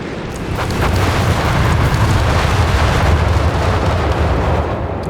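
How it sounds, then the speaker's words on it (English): Carpet bombing in Company of Heroes 3 during a 2v2 match, a loud, continuous rumbling wall of overlapping explosions that swells in and holds steady for several seconds without a break. "Carpet bombing from Thomas."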